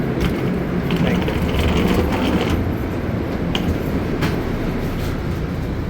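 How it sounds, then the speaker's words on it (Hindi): An old, ordinary commuter train rolls at a station in New Jersey, a loud, steady rumble with faint rail clicks and scattered metallic knocks running throughout. "ये होती है नॉर्मल ट्रेन"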